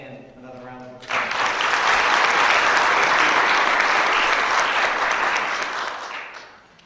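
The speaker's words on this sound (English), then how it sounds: "Let's give Jim and Dan another round of applause." Audience applause in a hall breaks out after a brief lead-in and holds loud and steady for several seconds as a dense wash of clapping, then tapers off at the end.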